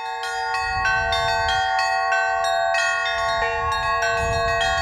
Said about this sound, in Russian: над первым заполярным русским городом прозвучали колокольные звоны в исполнении московского звонаря Владимира Петровского